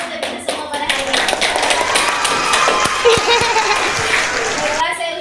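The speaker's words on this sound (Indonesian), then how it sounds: "tepuk tangan dulu untuk kita semua pada hari ini" Group applause from children at the close of a school group-guidance session, a steady wash of close clapping lasting several seconds that fades at the end, with voices mixed in.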